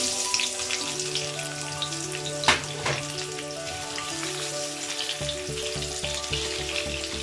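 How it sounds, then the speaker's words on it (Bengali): Onions frying in hot oil with whole spices for vegetable pulao give a constant close sizzle and spatter, with a brief sharper burst midway and a low humming tone underneath. "এখন আমি এখানে পেঁয়াজ দিয়ে দেবো।"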